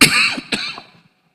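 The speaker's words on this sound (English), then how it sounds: "had this cough in Texas." A person coughs twice in quick succession, close and fairly loud, the second cough shorter than the first, with no other sound around it.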